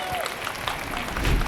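A live audience claps briefly at a business podcast recording, a short burst of applause mixed with a speaking voice.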